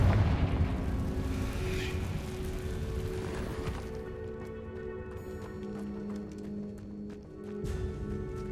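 A Confringo fire spell explodes in Hogwarts Legacy, set in an abandoned cave-in-prone underground chamber: a dense, booming rumble that shifts and thins partway through, leaving a steady low roar behind.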